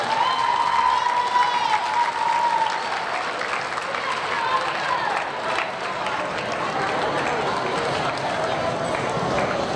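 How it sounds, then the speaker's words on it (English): A gym crowd at a basketball tournament applauds the Carbondale Area Chargers team. The clapping is loud and continuous, mixed with cheering and crowd noise, and a voice comes through over it. "Let's give a round of applause to Carbondale Area Chargers."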